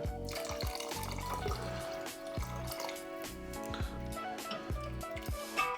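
Water runs from a tap into a pot of rajma curry being cooked at home, a steady close pour with gurgling, dripping bursts and a faint tonal hum behind it.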